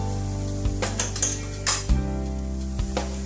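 Spoon stirring masala spices (haldi, coriander and cumin seed powder) into a moong curry in a pan gives several close clinks and scrapes of metal against the pan at uneven intervals, with no talking.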